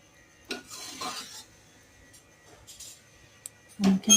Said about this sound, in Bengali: একটু নাড়াচাড়া ভালো করে করে নিই